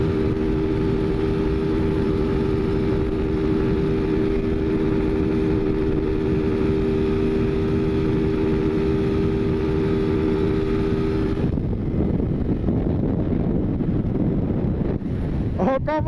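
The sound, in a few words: motorcycle engine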